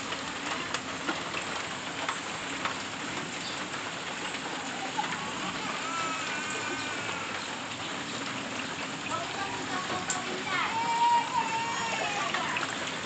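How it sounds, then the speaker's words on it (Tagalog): Light rain falling steadily during a flood, a dense, even hiss of drops on surfaces that runs the whole time at moderate level with no voices. "Kunti lang ang ulan."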